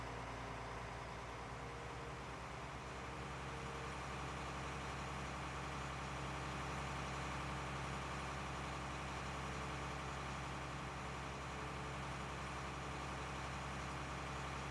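Tractor engine idling in Farming Simulator 19, a steady, dense low rumble with a constant drone that holds at one level throughout without change or pause.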